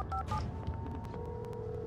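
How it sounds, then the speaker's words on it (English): Telephone keypad dialing in the Alan Wake video game: a couple of quick paired beeps near the start, then a steady tone holding under faint game ambience. "Use the phone, yeah. Call for help."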